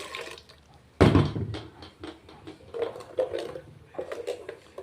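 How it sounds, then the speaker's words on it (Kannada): Water is splashed into freshly ground masala for a coconut fish curry, a sudden loud pour followed by soft dripping and trickling sounds, close by and without talk. "ಸ್ವಲ್ಪ ನೀರು ಹಾಕುವ"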